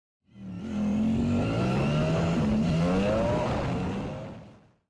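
A Royal Enfield GT650 motorcycle with a modified air filter cap revs up nearby, its engine and exhaust note rising in pitch in a few surges before dropping back and cutting off, loud and alone.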